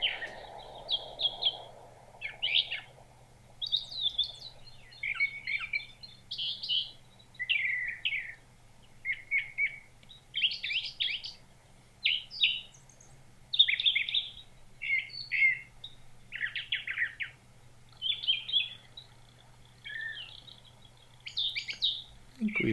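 A brown thrasher sings a long run of varied, repeated phrases, each a short burst of bright chirps and whistles separated by brief pauses, clear and fairly close over a low steady hum.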